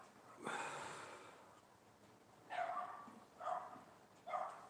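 A dog barks loudly in a sudden burst, then gives two or three more sharp barks spaced about a second apart, close by, with no talk over it.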